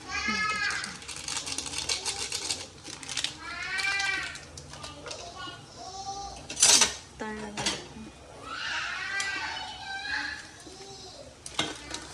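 Maggi noodles with dried peas, onion and tomato are mixed in a cooking pan, with clattering utensil scrapes and knocks mixed under ongoing voices, including a child's.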